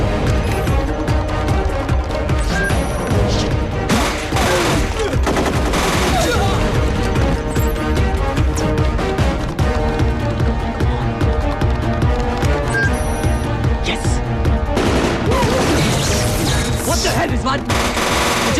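Sustained bursts of rapid gunfire crackle over a dense, loud action-film soundtrack with music and impacts, continuous and intense throughout.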